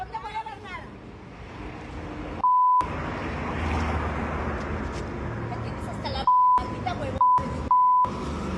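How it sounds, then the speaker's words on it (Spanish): Censor bleeps covering profanity in a Mexican TV news report about a security guard shouting; a steady electronic tone cuts in four times, once early and three times in quick succession near the end, over loud noisy crowd and speech. "nos toca cubrir las groserías con ese bip"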